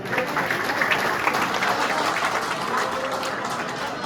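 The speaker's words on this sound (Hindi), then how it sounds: "तो एक बार जोरदार ताली बजाएं अपने आप के लिए" An audience at an indoor company meeting claps loudly and continuously, a dense roomful of hands sustained evenly for a few seconds.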